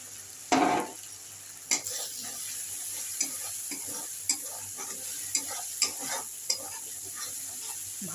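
Spices sizzle and fry in a pan for a Bengali rui fish mustard curry, with a loud opening clatter, then steady scraping strokes of a spatula at a regular rhythm over a constant background sizzle.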